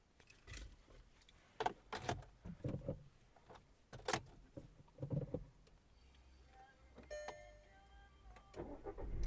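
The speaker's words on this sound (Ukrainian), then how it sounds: "Двигун запускається чудово." Clicks and rattles, then the engine of a Skoda Octavia A5 car cranks and starts up into a steady idle, fairly quiet and without voices.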